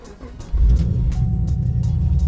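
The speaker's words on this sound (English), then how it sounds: "Let's go drive this thing. Do a little cold start." A fifth-generation Camaro ZL1 engine cranks and catches on a cold start, then settles into a loud, steady idle rumble close by.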